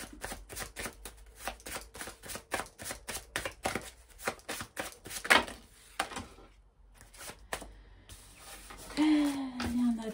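Tarot cards riffle and flick in a fast, steady run of crisp shuffling snaps, then pause before a few cards are drawn, with a soft voice talking near the end.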